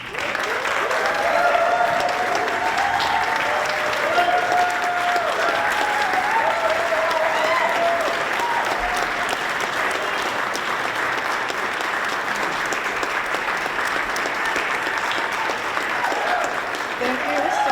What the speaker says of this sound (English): Please, everyone, join me with a heartfelt round of applause